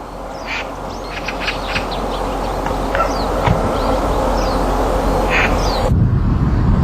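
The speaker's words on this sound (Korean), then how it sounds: "청둥오리와 까치떼가 흙을 헤집으며 먹이를 찾는다" Mallard ducks and magpies foraging through the soil of an empty winter farm field, with repeated quacks and short calls scattered over a steady outdoor hiss, fairly close and with no voices.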